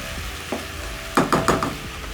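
Pork wet fry with tomatoes cooking in a pan makes a continuous gentle sizzle, broken by a short run of close spoon-on-pan stirring clatters.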